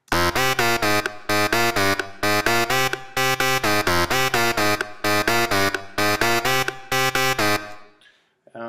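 Bright, buzzy lead synth patch built in Thor, modeled on a house track, playing a loud, punchy repeating chord riff in short rhythmic stabs with brief gaps, then cutting off near the end.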